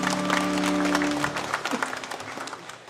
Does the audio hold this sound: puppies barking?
no